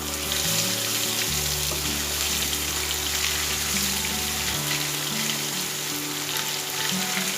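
Ginger garlic paste sautés in a pan after chicken has been fried in it, giving a steady, close sizzle and crackle throughout, with low hum shifts in the background and no talking.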